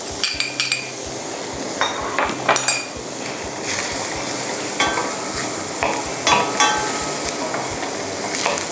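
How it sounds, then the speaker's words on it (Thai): Chopped onion sizzles in melted butter in a hot pan, with a steady fry under repeated metallic scrapes and clanks of a utensil stirring against the pan, close and loud. "แล้วก็ใส่หอมใหญ่นะคะ ลงไปผัดกับเนยสดค่ะ"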